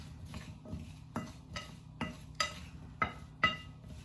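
Garlic powder and seasonings being stirred together in a bowl, a series of roughly eight light clinks and scrapes of a utensil against the dish at an uneven rhythm, close and fairly quiet, with no talk.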